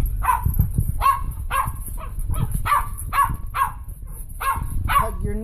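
Several dogs bark and yip in quick repeated bursts while playing together in a crowded house, close and fairly loud over a constant rumble.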